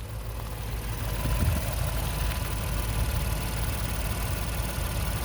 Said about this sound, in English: That engine is running good